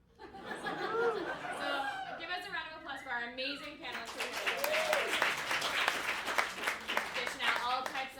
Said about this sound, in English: So give us a round of applause for our amazing panelists.